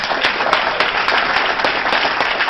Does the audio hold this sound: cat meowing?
no